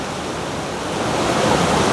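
Fast-flowing river water in jaguar country rushing in a steady, broad roar, close and loud throughout, building slightly toward the end, with no voices.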